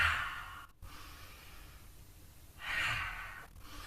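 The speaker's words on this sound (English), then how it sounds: "exhaling, making the heart sound" Slow, audible qigong exhalations of the heart-sound breath: a soft breathy sigh at the start, a quiet stretch, then a second long breathy exhale, close and gentle with no talking.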